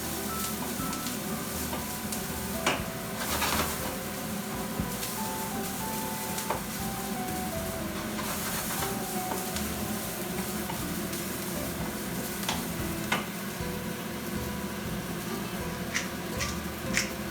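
Ribbons of chiffonade greens sautéing in a hot pan give a soft, continuous sizzle with small crackles and pops, fairly quiet, and no one speaks.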